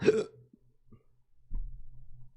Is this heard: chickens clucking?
no